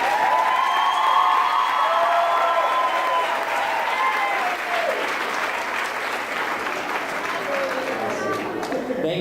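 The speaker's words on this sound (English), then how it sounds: "just one more round of applause for you" Loud, sustained applause with some cheering fills the room at Old Town Academy's 8th grade graduation ceremony in 2017, clapping steady throughout and easing slightly toward the end.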